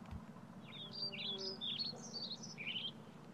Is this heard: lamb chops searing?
no